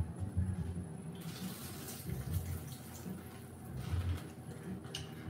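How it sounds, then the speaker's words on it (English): Tap water runs steadily into a sink while catfish is rinsed, a continuous close splashing rush with uneven surges, no speech. "Rinse your catfish off real good."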